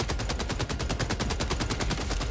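Rapid automatic gunfire in a video game, a dense, loud burst of evenly spaced shots that runs unbroken through the whole moment.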